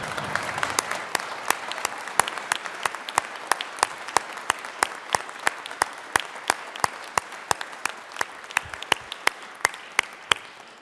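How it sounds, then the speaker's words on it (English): A crowd in the Colorado Senate chamber breaks into applause, sustained rhythmic clapping that fills the room, with sharp individual claps standing out over a dense steady wash. "you should stand and give her a major applause for standing with me"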